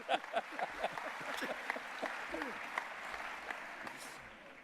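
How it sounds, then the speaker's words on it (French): Delegates at a 2017 trade union congress break into applause: a quiet, distant wash of many hands clapping, with scattered voices in the hall. "Applaudissements, s'il vous plaît."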